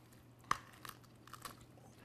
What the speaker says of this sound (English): I should be able to hear a crunch.